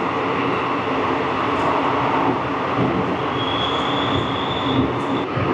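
A train on the Jammu to Srinagar line running through a tunnel, giving a steady loud rumbling roar with a faint high wheel squeal rising briefly toward the end.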